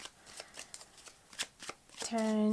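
A deck of tarot cards is shuffled by hand, giving a quick run of crisp riffling snaps. A voice starts at the very end.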